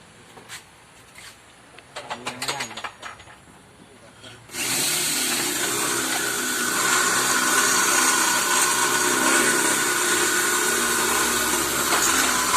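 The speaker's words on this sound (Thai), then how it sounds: "ช่างก็กำลังเจาะนะครับน่าจะเจาะ" A power drill bores holes while electrical switch wiring and a cable rail are installed. Brief voices and knocks come first, then the drill starts and runs steadily, loud and near, until the end.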